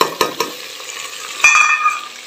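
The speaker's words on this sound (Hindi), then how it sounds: "ये भिंडियाँ भी घी में अच्छी तरह मैंने फ्राई कर ली हैं। अब इसमें ऐड करूँगी मैं प्याज और टमाटर मिर्च।" Okra fried in ghee as onion, tomato and chili go in, a loud close sizzle flaring up after sharp clatters of ingredients and a utensil hitting the pan, then settling into steady frying with no voices.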